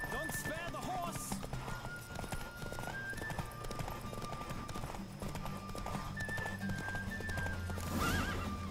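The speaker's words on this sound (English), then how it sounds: "Don't spare the horse." Hooves clip-clop in a fast, steady gallop with occasional horse whinnies, over a constant layer of game music and effects, in the video game The Witcher 3.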